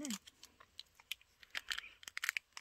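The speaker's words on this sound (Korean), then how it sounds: "비닐 뜯는 중" Crinkly plastic vinyl packaging being torn open on a Sanrio crystal keyring maker toy, a close, quiet series of sharp crackles and rips in irregular bursts, growing denser toward the end.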